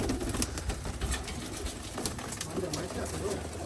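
Rajshahi Giribaj flying pigeons coo softly in a loft in a steady, low rumbling chorus, with occasional rustling and faint background voices.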